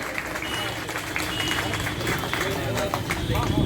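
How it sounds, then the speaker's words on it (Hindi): Loud, steady applause from a crowd at a memorial gathering in Gonda, with dense clapping and background hubbub running throughout at close range. "जोरदार तालियों के साथ स्वागत करें"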